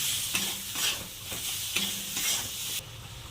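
Spice masala of coriander, chilli and turmeric powders fries in a pan for okra curry, a steady close sizzle broken by rhythmic scraping strokes of a stirring spoon, loud and continuous, with no talk.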